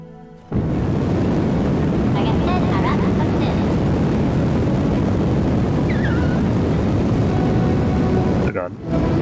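A loud, steady roar of an aircraft flying in Kerbal Space Program 2 fills the scene, with a few faint tonal chirps and a voice speaking briefly over it.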